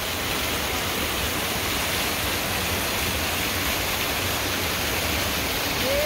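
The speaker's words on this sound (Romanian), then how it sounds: "Cascada Vadul Crișului." Vadul Crișului waterfall on a river in Romania gives a steady, close, dense rushing roar of falling water that holds evenly throughout with no voices.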